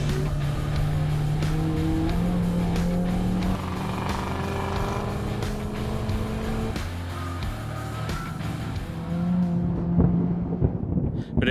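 A modified Honda EK Civic race car lapping a circuit, the engine roaring hard at high revs with gear changes and some tire squeal, loud and continuous from onboard, easing off near the end.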